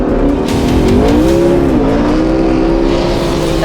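A modified 2012 McLaren MP4-12C with downpipes, a tune and lowering springs roars loudly and steadily, its engine note rising and dipping while it drifts on a track, with faint tire squeal underneath.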